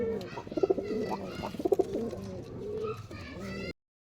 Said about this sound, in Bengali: গিরিবাজ কবুতর, আমাদের রাজশাহীর লোকাল গিরিবাজ